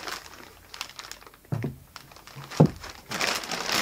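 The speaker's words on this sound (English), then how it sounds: "first thing, discard the plastic bag," The plastic bag around an ELAC Vela BS 403 bookshelf speaker crinkles and rustles in short bursts, with a few sharper crackles and handling noises close to the microphone.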